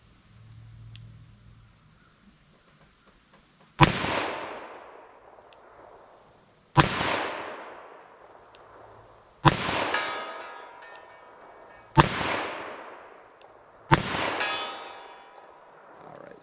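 Five loud, sharp revolver shots from .38 Special +P and .44 Special XTP hand loads, fired at a steady pace roughly two seconds apart, each a close crack with a ringing decay, nothing else between them.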